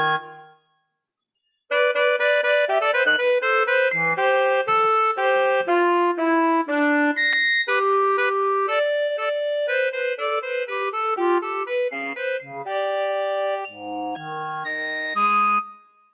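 A middle school band student's short composition on the word "broken": bright tonal pitched instruments play a busy, uneven run of notes that shift in register, with a few low notes, loud and close after a brief opening sound and a pause.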